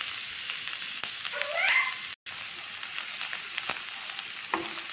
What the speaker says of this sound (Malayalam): നമുക്ക് നന്നായിട്ട് ഒന്ന് വഴറ്റാം.